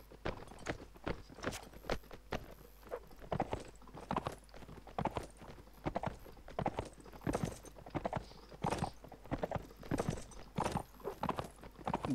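Horse hooves clip-clop steadily while riding across the field in Mount & Blade: Warband, a rapid, continuous run of close, sharp hoof strikes with no talk.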